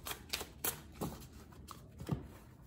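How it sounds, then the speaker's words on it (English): Brisk, papery riffling of tarot cards, several short bursts in an irregular rhythm, close by and fairly quiet. "Couple more shuffles here"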